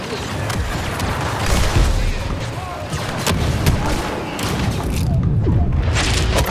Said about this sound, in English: How we're all alive in this many explosions is beyond me